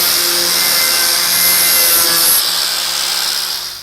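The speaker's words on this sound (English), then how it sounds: "I'm going to use the blending wheel and clean up the cut just a little bit to get rid of the sharp spots" A blending wheel on a power tool grinds loudly against the cut metal edge of a 2016+ Toyota Tacoma truck bed, a continuous harsh abrasive whine that tapers off at the end.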